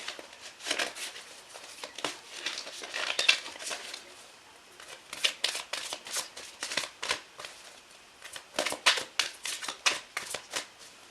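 Tarot cards are shuffled by hand in repeated bursts of crisp riffling and flicking, close and fairly loud, with short pauses between rounds.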